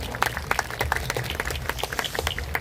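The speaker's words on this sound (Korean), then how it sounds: "박수 한 번 해드릴까요?" A crowd applauds steadily at a live outdoor festival event, with many hands clapping in a dense, continuous patter.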